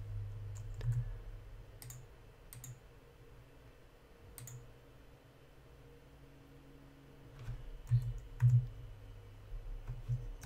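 Keys click on a computer keyboard while dimensions are entered in a CAD sketch, with sparse isolated presses early on and a quicker cluster of taps near the end over a faint steady hum.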